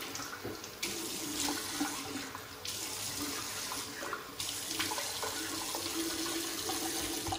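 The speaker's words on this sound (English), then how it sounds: "let's rinse the face and we'll get to toast" Water runs steadily from a tap into a sink while a face is rinsed after shaving, a continuous close hiss with a few splashy shifts as hands move through the stream.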